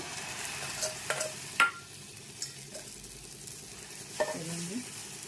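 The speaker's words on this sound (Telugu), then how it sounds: "ఇప్పుడు దీంట్లో ఆమ్లెట్ వేసేద్దాము" Fenugreek omelette with egg, chili powder, salt, pepper and turbeyric sizzling steadily in a hot oiled pan, with a few scraping stirs and clinks of a utensil over the continuous frying hiss.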